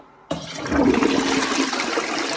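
A toilet flushes with a homemade blue cleaning tablet placed in it, a sudden loud rush of water that starts abruptly and keeps roaring steadily, close by and alone.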